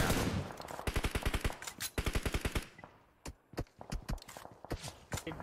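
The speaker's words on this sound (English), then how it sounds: "they've got gunfire all around them" Gunfire in a mobile battle royale video game: loud, rapid bursts of automatic fire crackle in quick rhythmic volleys, pause briefly, then resume as scattered shots and shorter bursts with no talking.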